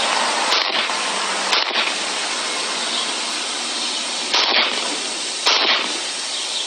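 Sharp, loud gunshots at target practice ring out, with about four distinct bangs spread over a constant rushing hiss.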